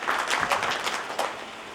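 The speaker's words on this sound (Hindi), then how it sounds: "हिनका सब लेल सेहो एक बार जोरदार ताली दियौन" An audience claps together at a student union's first foundation day event, a steady burst of applause close to the microphone that lasts a couple of seconds with no talk over it.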